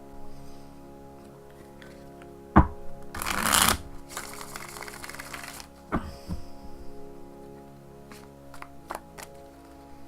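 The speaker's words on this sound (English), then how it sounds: "we'll cut the deck and deal out 5 cards." A deck of tarot cards is riffled and shuffled close by in two dense bursts of fluttering card noise, framed by a few soft taps and thumps of the cards on a surface, with no voices.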